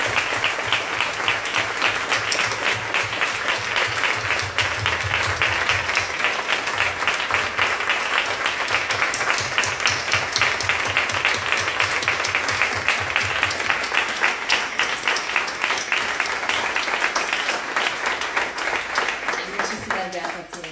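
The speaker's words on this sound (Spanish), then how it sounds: "pues yo creo que merece, Andrea, un gran y caluroso aplauso" Warm, sustained audience applause for author Andrea Marcolongo at a book presentation in Zaragoza, a dense wash of many hands clapping steadily for about twenty seconds, with some voices mixed in.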